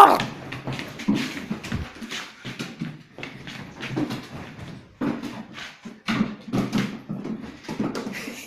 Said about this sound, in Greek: Ποιος γαυγίζει?